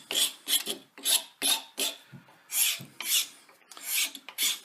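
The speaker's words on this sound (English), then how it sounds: "I'll use this smooth file. This is a single cut file for some of the finer work on here." Smooth single-cut metal file rasping across wood, about a dozen distinct push strokes in an uneven rhythm, close and clear with short pauses between strokes.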